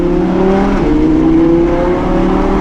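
An Audi R8 V10 Plus with a Capristo exhaust roars steadily from inside the cabin, a loud continuous engine drone holding nearly level throughout with no talk over it.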